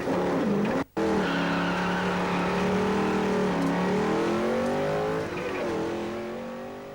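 A Rover SD1 rally car spinning on tarmac at Avon Park, engine revving loudly with a sharp cut-out near the start, then a sustained wailing tone as it slides and recovers, fading slightly toward the end.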